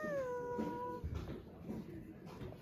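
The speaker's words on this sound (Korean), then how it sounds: "여기 또 있네 고양이가." A farm cat in Australia gives a drawn-out, wavering meow at the start, followed by quieter murmuring and background noise.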